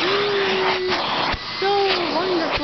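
A household vacuum cleaner runs steadily and loudly throughout with a constant whine, its pitch dipping briefly and shifting as it works.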